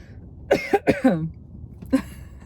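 A person coughs several times in quick succession, harsh throaty bursts followed by a softer cough after a pause.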